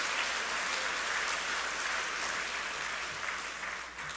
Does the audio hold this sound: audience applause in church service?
yes